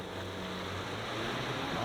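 Turbocharged petrol engine of a 2023 Volkswagen Amarok pickup revving up, a steady broadband engine roar with low harmonic tones that builds slightly in loudness, heard alone.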